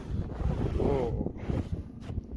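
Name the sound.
wind blowing during a blizzard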